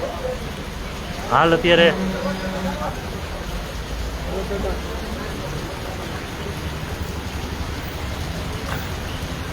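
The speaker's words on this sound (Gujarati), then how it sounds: "જોરદાર વરસાદ વરસી રહ્યો છે" Heavy unseasonal rain falls over the countryside near Charadva village on the Halvad–Morbi highway, a constant broad wash of downpour with someone speaking briefly early on over it.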